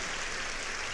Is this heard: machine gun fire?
no